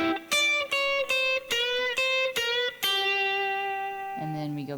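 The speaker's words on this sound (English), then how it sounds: "It's a classic blues lick. It sounds like this." Classic blues guitar lick in G played close and clear: a short run of about eight plucked notes, some bent or slid, ending on a sustained ringing note that fades out.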